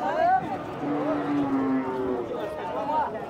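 Cattle lowing at a highland village market, several moos near and clear over a busy background of people talking.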